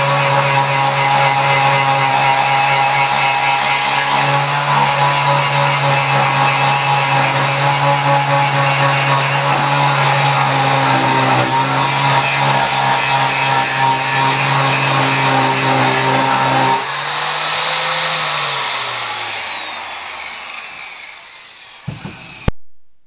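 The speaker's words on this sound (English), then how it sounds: "Oh, we gotta grind some more." A power tool grinding a metal part: a loud, sustained, close high whine holding steady for a long stretch, then winding down in pitch as the motor spins to a stop, ending with a short clunk.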